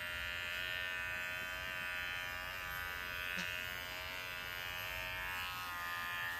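A Wahl Bravura or Gimars pet clipper trims a rabbit's fur, a steady, close electric buzz with a constant whine that runs on evenly throughout.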